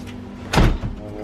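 A side door of a family home opens or closes with a single firm thud and a short rattle, heard close by in an indoor setting with no talk.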